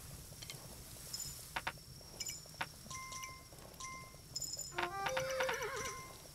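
Horse neighing in the video game Kingdom Two Crowns, a loud whinny with wavering pitch rising near the end, over game ambience with chimes, bell-like tones and soft clip-clop hoofbeats.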